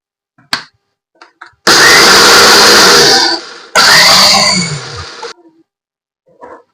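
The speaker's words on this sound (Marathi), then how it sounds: "चला आपण आता ग्राइंडरला लावून घेऊ आपण आता काय करू ग्राइंडिंग याच्यात भांड्यात लावून ग्राइंडिंग करून घेऊया" Electric kitchen grinder pulverising roasted cassia tora seeds into coffee powder, two loud whirring bursts of a few seconds each with a short pause between, separated by faint clinks and handling noises.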